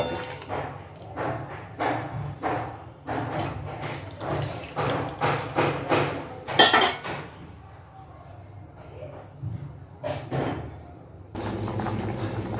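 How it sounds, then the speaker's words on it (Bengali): Thin fish curry broth with slit green chilies, potatoes and eggplant bubbles at a boil in a pot, giving repeated soft gurgling bursts and watery pops at close range, with brief quieter stretches. "দেখুন মাছের ঝোল কিন্তু খুব সুন্দর করে ফুটতে শুরু করেছে"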